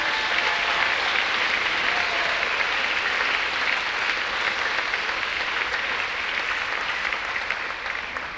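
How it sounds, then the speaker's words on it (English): Long, full applause from an audience at a senior celebration for honored graduating students, a thick, continuous roar of clapping that holds at a steady, loud level throughout with no speech. "Will you give them another round of applause,"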